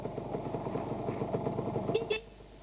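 A car horn gives one short honk near the end, over the steady low rumble of an idling engine.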